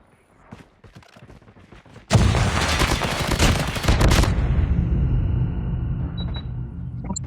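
Gunfire in the mobile shooter Call of Duty Mobile, with a few faint shots at first, then a sudden loud, dense burst of rapid automatic fire that keeps on as a steady roar, close and with no talking over it.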